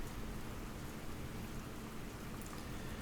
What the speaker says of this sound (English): The rain sounds awesome.